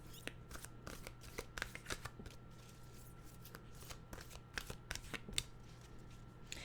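Journey of Love tarot cards are shuffled in soft, riffling bursts with light taps and slaps, close and quiet, with no talking.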